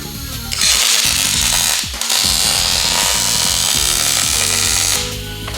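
Custom furniture legs are welded at the corners, giving a loud sustained buzzing crackle that starts, breaks off briefly near the two-second mark and then resumes, over a busy shop background.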